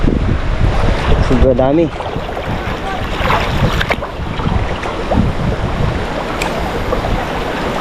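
A strong floodwater current rushes during typhoon flooding in a steady, loud wash close by, with wind buffeting the microphone. Someone speaks briefly over it.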